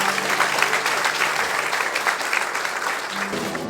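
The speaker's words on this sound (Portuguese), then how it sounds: "Dê uma salva de palmas para Jesus" A church congregation claps together in sustained applause, a dense, even patter that carries on without a break.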